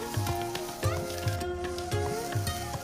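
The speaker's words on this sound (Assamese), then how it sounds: "মই ভালদৰে এখিনি 5 বা 6 মিনিটলৈকে ভাজিব লাগিব" Grated gourd sizzles in hot ghee in a pan for barfi, with a soft steady frying hiss and repeated scraping thumps of stirring at a regular rhythm, close by.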